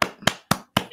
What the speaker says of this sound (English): I was clapping for the audience